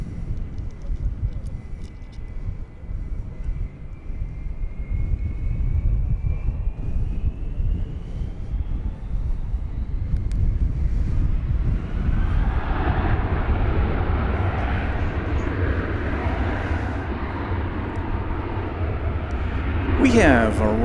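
Frontier airliner arriving at DFW Airport from Puerto Vallarta, a steady distant jet roar that swells and broadens toward the end, heard alongside wind and background noise.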